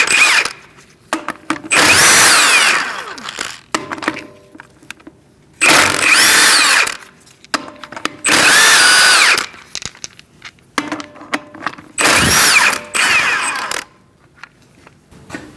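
An air impact wrench loosens the lug nuts on a Chevrolet HHR front wheel in four or five loud bursts of whirring and hammering, separated by quiet pauses and small clinks.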